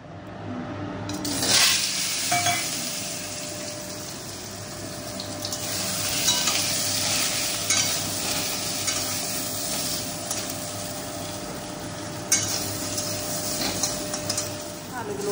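Half-boiled potatoes coated in salt and turmeric fry in a little oil, giving a steady close sizzle broken by occasional scraping stirs, with no talking.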